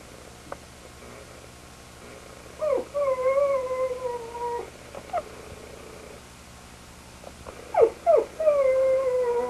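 A dog howls and whimpers in drawn-out, wavering tonal cries, a few separate bursts close to the microphone, with quiet gaps between them.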